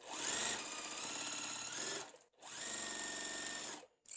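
A sewing machine stitching quilt pieces runs in two steady continuous bursts with a brief pause between, a close, even mechanical whir with no talking.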